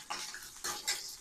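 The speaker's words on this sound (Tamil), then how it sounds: "போட்டு முந்திரி கொஞ்சம் நல்லா ஃப்ரை ஆனதுக்கப்புறம்" Cashews fry in ghee for javvarisi payasam, a soft, steady sizzle with a few light stirring scrapes, quiet and brief.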